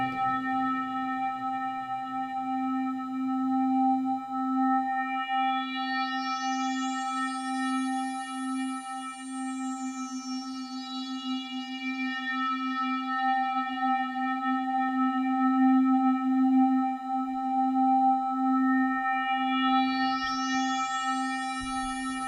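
Modular synthesizer patch with control voltage sweeping the filter resonance, a sustained droning tone under rising and falling whistling resonant sweeps, with reverb and delay adding tail.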